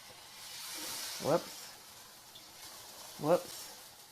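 Water poured into a hot pan inside an oven preheated to 425 degrees for baking bread gives two short, soft hissing sizzles a couple of seconds apart, close by and fairly quiet.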